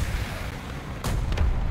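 An enemy T-55 fires its tank cannon in the War Thunder tank battle, a sudden booming report over a constant low engine rumble, followed by a second, shorter crack.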